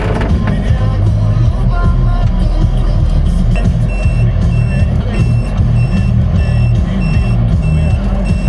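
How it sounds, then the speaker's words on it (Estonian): A truck pulls in at a worksite with loud, steady reversing beeps repeating over heavy engine rumble and clatter, close by, with a voice briefly in the background. "mingi rekka tuli."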